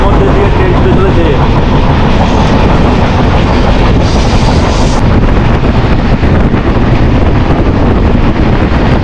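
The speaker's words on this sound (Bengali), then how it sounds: "চা বাগান আর তার মধ্যে দিয়ে ট্রেন ছুটে চলেছে" Kanchankanya Express rushing through tea gardens near New Mal Junction, a loud, steady roar of a moving train heavily buffeted by wind against the microphone, with no break throughout.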